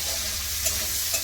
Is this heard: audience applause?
no